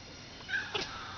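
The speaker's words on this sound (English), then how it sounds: "There's our white kitty cat." A white cat gives a single short, soft meow, fairly faint against quiet room background.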